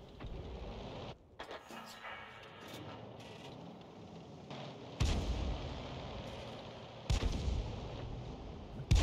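Tank-style artillery guns firing in a World War II armored combat video game, with several heavy booming shots over a steady engine rumble, one near the start and others around the middle and end.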